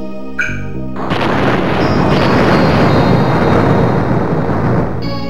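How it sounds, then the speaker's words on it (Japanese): A massive explosion from a Langrisser V video game cutscene, as a ship called Peiria blows up: a sudden booming blast followed by a long, roaring, rumbling wash of debris that holds loud for several seconds. "ペイリアが爆発する！"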